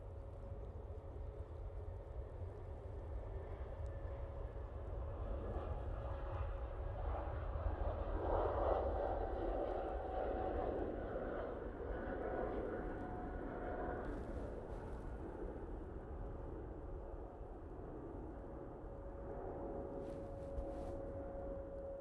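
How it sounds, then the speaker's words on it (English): Lufthansa CityLine Airbus A320neo taking off for Munich at Manchester Airport, a steady broad jet roar with a sustained engine tone, swelling around the middle and holding loud before easing slightly, with no talk. "Lufthansa City, A320 Neo now on its way to Munich."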